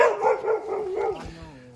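A small female dog yips a few times in quick, high-pitched barks, close by outdoors in a residential neighbourhood of Tigre, Buenos Aires.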